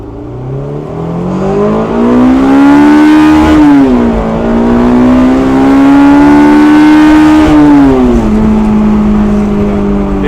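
A stock Honda S2000 engine, heard from inside the car, revs hard and loud toward 10,000 rpm, its whine climbing steadily, dipping once at a shift, then rising again before easing off.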